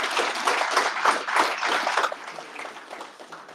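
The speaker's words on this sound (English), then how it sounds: "I would ask for a quick round of applause for everyone here" An audience at a demo day event breaks into a short round of applause, a dense burst of clapping that peaks early and thins out over a few seconds.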